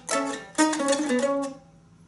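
Quick mandolin run of picked notes down the neck, fast bright plucks in a rapid sequence over about a second and a half, then ringing off, close and clear with no talking.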